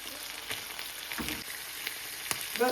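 Canned tuna frying in its own oil in a pan, a soft, close crackle and sizzle with a few sharp pops and light utensil taps over a brief stretch, with no speech.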